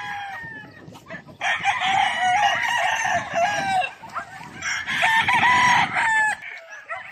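Roosters at a gamefowl farm in General Santos City crow loudly and close, two long overlapping crows separated by clucking and bird sounds in the background.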